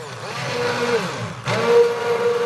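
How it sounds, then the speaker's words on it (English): An immersion blender whirs steadily as it purees potato soup made in an Instant Pot, a continuous close motor drone that briefly dips and then surges back louder partway through. "Next, I will take my immersion blender."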